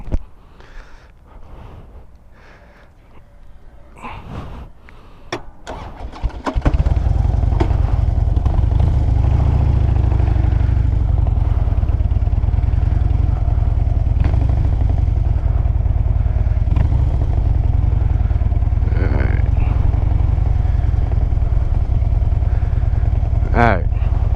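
A motorcycle engine is cranked with some clattering, catches after about six seconds, and settles into a loud, steady, close running rumble that continues to the end.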